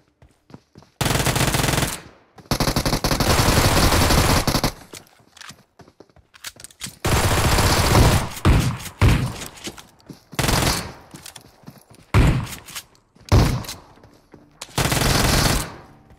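Gunfire in the BGMI mobile battle game, several loud sustained bursts of rapid automatic fire and sharp single shotgun-like blasts separated by short silences, close and with no talking.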